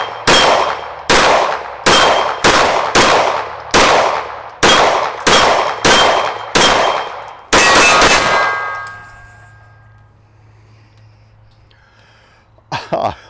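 A Jacob Grey TWC 9 pistol with a Trijicon SRO sight fires about eleven rapid shots at a steel plate 12 yards away on a range. Each shot is a sharp bang with a metallic clang, ending in a long ringing decay. A faint knock follows.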